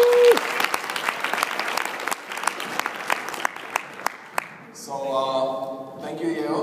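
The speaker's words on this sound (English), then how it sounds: "applause for Diego" An audience claps for Diego at a Google event, with steady applause and sharp individual claps that fade, followed by a voice speaking.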